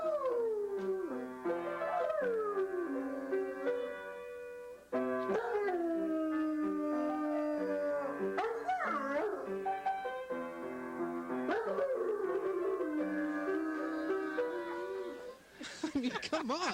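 A dog howls along to a piano in long rising and falling wails with whimpering yips, loud and near, sustained over sparse piano notes.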